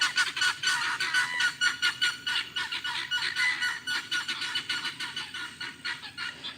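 A flock of guinea fowl calls loudly and continuously, harsh rhythmic honking cries repeating rapidly from several birds close by outdoors.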